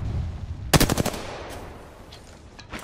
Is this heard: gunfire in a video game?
yes